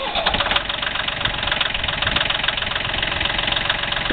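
A Yanmar 226D diesel tractor engine runs at a steady idle, a loud continuous rumble with an even knocking pulse that holds throughout.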